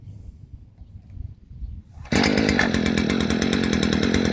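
A STIHL FS 56 RC string trimmer bursts to life after a quiet start and runs loud and steady at full throttle, a high buzzing whine with no pauses.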